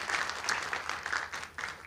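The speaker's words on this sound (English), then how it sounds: "please clap your hands, put your hands together for YB" A conference audience breaks into applause after a fireside chat session, dense clapping from a crowd filling the room in a short, continuous burst.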